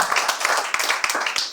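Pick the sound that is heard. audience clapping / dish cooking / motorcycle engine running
audience clapping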